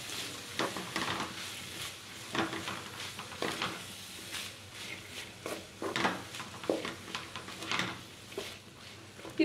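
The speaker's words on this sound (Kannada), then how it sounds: "ಇವಾಗ ನೀಟಾಗಿ ಮಿಕ್ಸ್ ಮಾಡಿಕೊಂಡು 1-5 ನಿಮಿಷ ಫ್ರೈ ಮಾಡ್ಕೋಬೇಕು" Horse gram (hurali) curry mixture frying and being stirred in a pan, with a soft steady sizzle and irregular scraping stir strokes, close and fairly quiet.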